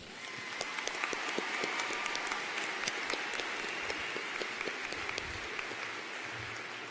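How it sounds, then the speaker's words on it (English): A large audience applauds throughout a high school graduation ceremony, a broad, sustained wash of clapping from a big crowd with occasional louder nearby claps, and no speech on top. "Please join me in another round of applause."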